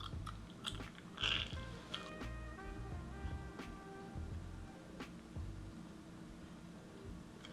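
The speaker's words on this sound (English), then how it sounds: "And you just chew." Someone chews a firm Chisell jawline tab with repeated wet, rubbery chomps and soft biting squeaks up close, the rhythm steady over a quiet background hum and no talking.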